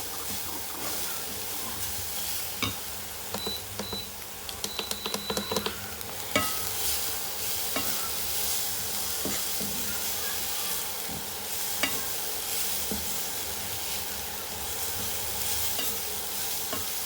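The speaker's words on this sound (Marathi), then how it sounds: "त्याला आपण छान परतून घ्यायचं आहे." Grated fresh coconut and sugar sautéing in a pan for coconut laddoos, a steady close sizzle with scraping stir strokes and a few clinks of the spoon against the pan, with no talking.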